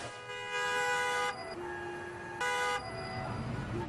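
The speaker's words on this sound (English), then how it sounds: "The car horn." A car horn honks in two long sustained blasts, the first about a second and a half and the second shorter, loud and close, with a steadier tone lingering between them.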